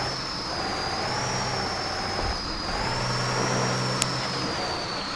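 A truck engine in the Spintires off-road game drones and revs steadily while working through mud, holding a sustained mid-pitched hum with a slight swell and a brief click near the end.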